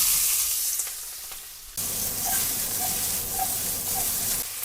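Vegetables dropped into a hot pan with rendered beef cheek fat, a loud close sizzle that jumps up sharply as they go in and keeps hissing steadily.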